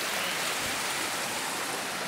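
Creek water flowing steadily beside a spot where clothes are washed, a continuous close rushing wash with no pauses.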